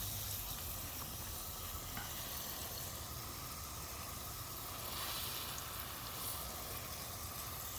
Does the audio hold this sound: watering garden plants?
yes